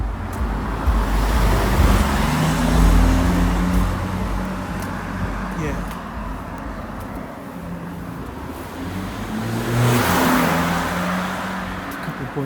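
Cars rev and race along a street near a parking area, engines rising and falling in loud, sustained passes with steady traffic roar throughout.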